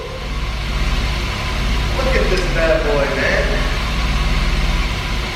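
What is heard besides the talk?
BMW E34 M50 engine idling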